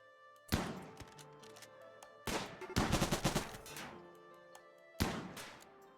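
Raiding outlanders open fire on colonists in RimWorld, with three sharp bursts of loud gunfire, the middle one a rapid rattling volley, separated by quieter gaps of low game ambience.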